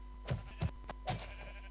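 Three short, bleating sheep calls from a video game in a quick uneven sequence, clear and close against a steady low hum.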